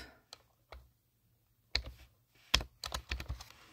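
Typing on a computer keyboard, sparse single key clicks at first, then a quick burst of rapid taps, close and crisp in a quiet room with no talking.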